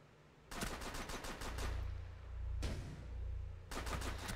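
Automatic gunfire in Rainbow Six Siege, with three rapid bursts of rattling shots over a low rumble, loud and close.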